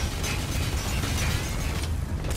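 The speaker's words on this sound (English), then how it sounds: "it sounds like heavy gun emplacements are being fired at me" In Metal Gear Solid V: The Phantom Pain, heavy gun emplacements fire in a dense, continuous rumble of booming bursts and mechanical clatter, close and loud with no talk.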